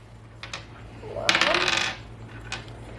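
Dice rolled across a hard surface give a brief clattering burst in the middle, framed by a few faint single clicks before and after, heard alone against a low steady hum.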